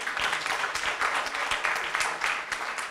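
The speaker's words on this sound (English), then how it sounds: "And also a round of applause for our moderator" An audience at an ASEAN dialogue applauds the moderator with steady, moderately loud clapping that continues throughout, with the individual claps blending together.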